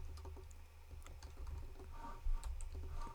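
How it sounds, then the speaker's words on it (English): Close, quiet typing on a computer keyboard, a quick irregular run of key clicks with a low background hum and no talking. "If I can type."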